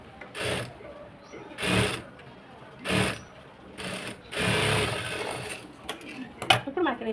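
Sewing machine stitching a folded hook strip along a blouse hem, running in several distinct bursts of rapid mechanical whirring with short pauses between, close and moderately loud, with a faint voice present.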